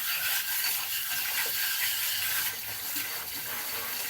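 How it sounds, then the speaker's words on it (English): Water pours steadily from a kitchen tap into a pie-baking dish, a constant hissing splash that stays even throughout with no talking. "Get a little bit of water in there so it doesn't dry up on me."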